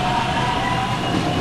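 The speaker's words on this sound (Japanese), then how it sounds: "そして電車が動き出した。" An electric train starts to move in the Mitaka incident of the Showa era, a loud, steady rolling rumble of railcars and wheels on track, close and continuous.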